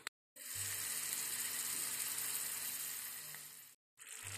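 Chili and tomato sauté in a hot pan with a loud, close, continuous sizzle that stops abruptly, then resumes briefly.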